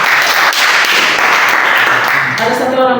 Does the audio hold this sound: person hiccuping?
no